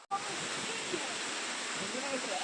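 A forest waterfall near Wayanad gives a steady broadband rush of falling water, close and constant, after a brief knock at the start.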